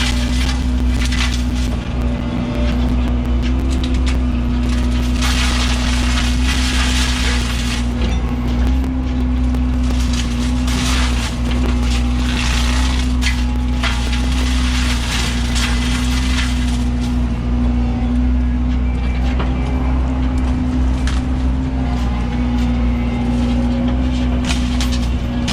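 A forestry mulcher clears underbrush, skimming back and forth over the ground: a steady heavy engine hum with a constant drone, overlaid by bursts of grinding and crunching as brush is shredded.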